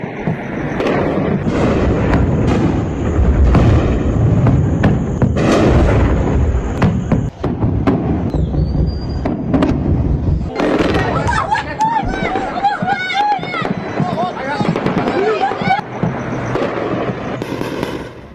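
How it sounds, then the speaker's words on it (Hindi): Iranian ballistic missiles explode over Israel in a string of loud, booming blasts and sharp cracks one after another, with voices shouting and talking beneath and between the detonations. "एक के बाद एक मिसाइलें रक्षा मंत्रालय पर बमबारी हुई।"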